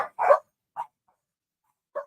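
A Boston Terrier indoors gives a few short, sharp barks and yips, one quick pair at the start, then single barks spaced apart with silence between, fairly close.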